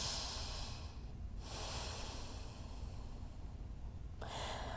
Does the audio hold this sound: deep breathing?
yes